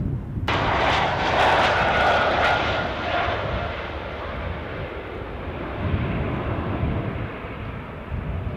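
KLM Embraer 190 jet bound for Copenhagen departs Schiphol airport, its engine roar starting abruptly loud and then settling into a steady broad rumble that slowly fades as it moves away.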